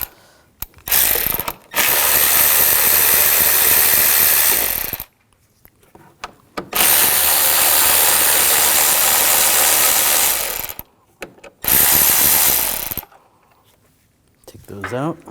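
A socket ratchet clicks rapidly while loosening bolts under the hood of an Audi S4, in three long loud runs of ratcheting split by short pauses, with brief clanks near the end.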